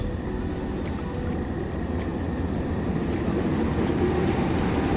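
A train crosses the bridge at Kanchanaburi with a steady, heavy rumble and faint metallic clacks, holding at an even level throughout, with no talking.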